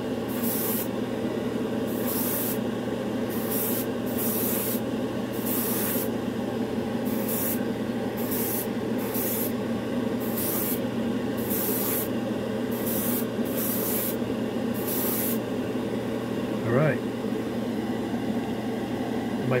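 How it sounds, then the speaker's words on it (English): An airbrush sprays Badger Stynylrez primer onto a test knife in a series of short hissing bursts, roughly a dozen close, evenly spaced blasts over a constant low room hum. "I tell you to airbrush this stuff close, so that's what we're going to try."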